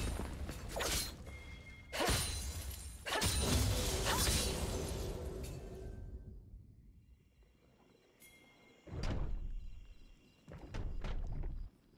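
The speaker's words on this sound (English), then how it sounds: "Team's turret has been destroyed." A turret is destroyed in League of Legends: heavy crashing blasts and whooshes, followed by a lighter mechanical chime and further bursts of impact, loud and close with no talking.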